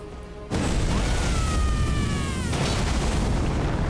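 A loud explosion bursts from a charge attack combo with the modded Greatsword of Radahn in Elden Ring, hitting suddenly and then holding as a sustained, roaring rumble for several seconds.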